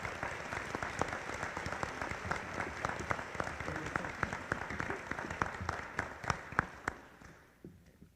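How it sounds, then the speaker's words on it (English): Applause for students at a high school honors convocation, a crowd clapping steadily and fairly close, with a few sharper individual claps near the end before it fades out. "Please give them a big round of applause."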